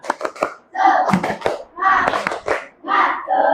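A class of children claps in a patterned rhythm, bursts of hand claps mixed with their voices chanting along, fairly close.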